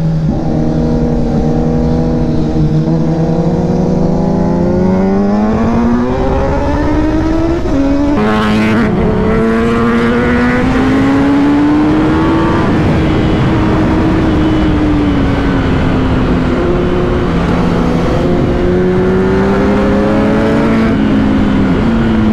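A Kawasaki Ninja ZX10R sport bike screams past on an overtake, engine note climbing hard through the revs with a gear change midway, loud, close and continuous wind-swept roar throughout.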